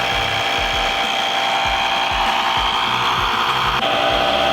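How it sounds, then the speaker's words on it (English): A portable air compressor plugged into a car's lighter socket fills a tire, giving off a steady buzzing drone with a rapid pulsing chug underneath, close and constant. "the air compressor plugged in, filling up the tire"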